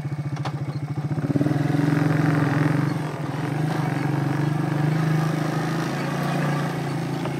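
A 1992 Suzuki Quad Runner 300 ATV engine while riding, a loud close steady motor drone that rises briefly and then holds at a rough, even pitch.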